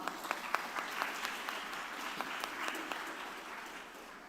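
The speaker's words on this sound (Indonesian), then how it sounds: "tepuk tangan dong" A university audience claps continuously at moderate distance, individual sharp claps standing out early before the applause settles into an even patter.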